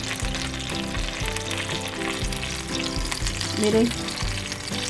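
Food cooks slowly in a pan, browning on the underside, with a steady sizzle and frying crackle running throughout, close up under background music and a brief spoken word.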